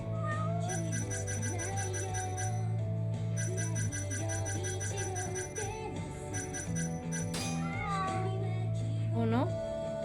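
Cats meowing in the video game Judgment, rising meows over steady game music with chiming tones, repeated near the end, while a person talks.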